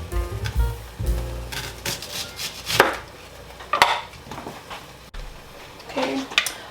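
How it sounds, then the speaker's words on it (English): A knife slices an onion into rings on a cutting board, giving several separate sharp cuts at irregular intervals, close and fairly loud, with kitchen handling noises between them. "you want to just cut nice rings just like that, as if you were making onion rings"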